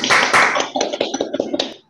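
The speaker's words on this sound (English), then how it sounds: "Let's give a hand of applause for the presentation." Clapping from a small audience after a presentation at a talk on spatial sound, starting as a dense burst and then thinning into separate, uneven claps that fade out within two seconds.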